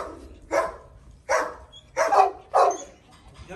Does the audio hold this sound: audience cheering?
no